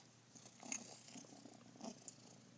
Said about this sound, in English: he's a purr machine